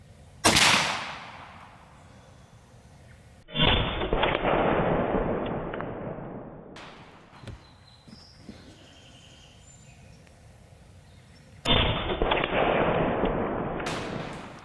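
Western Airguns Mordax PCP air rifle firing: two loud, sharp cracks spaced several seconds apart, each trailing into a long hissing decay, with a quieter pop in between and a third shot near the end, outdoors.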